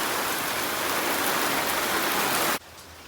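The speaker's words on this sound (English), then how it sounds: "just the rain is coming down." Steady rain pours down hard in a dense, loud hiss that fills the air, then cuts off abruptly near the end, leaving a much quieter background.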